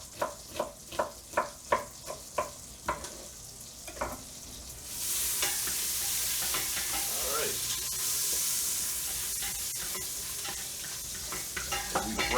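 Bacon browning in a pan for a keto chili, a steady close sizzle and frying hiss filling most of the stretch, preceded by a run of rhythmic stirring or scraping knocks.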